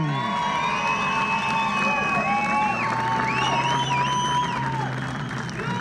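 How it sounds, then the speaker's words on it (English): A grandstand crowd at the Isle of Man Superstock TT cheers and applauds race winner Ian Hutchinson, a Honda rider, with a dense, steady roar, shouts and whistles rising over the noise throughout. "he gets an extra round of applause from Mike Crellin as well"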